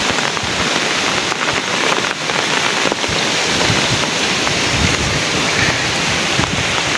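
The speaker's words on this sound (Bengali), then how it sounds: "বাতাসের সাউন্ডটা আপনারা ঠিক পেতেছেন যে কীভাবে বাতাস হইতেছে" Strong wind and heavy rain from a storm in Rajbari district, Bangladesh, roar steadily and loudly for the whole stretch as a dense, unbroken wash with no voices.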